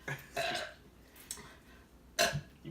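Several loud, close burps during a no-burping challenge: a short one near the start, a longer belch after it, a faint one in the middle and a strong final belch near the end, with no speech between them.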